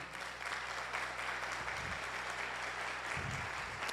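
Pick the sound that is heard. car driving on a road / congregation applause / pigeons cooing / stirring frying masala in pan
congregation applause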